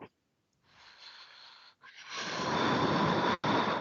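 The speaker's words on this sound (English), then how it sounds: "Why you are blowing your nose?" Loud, breathy nasal blasts: a short snort, a pause, then a long forceful nose blow that cuts off and starts again.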